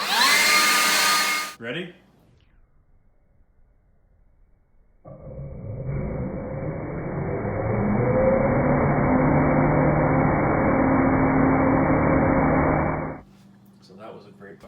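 A DeWalt leaf blower runs steadily for about eight seconds with a loud, even broadband roar, preceded by a brief voice and followed by a quiet spoken word as it cuts off.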